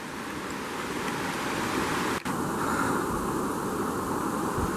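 Strong wind roars across the microphone outdoors, a steady, loud rushing buffet with one momentary dropout midway.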